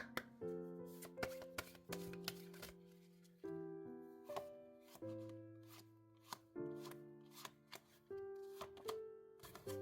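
Oracle cards are shuffled by hand in a quiet, close-up setting. Soft, repeated card taps and riffles sound faintly over gentle, sustained background music.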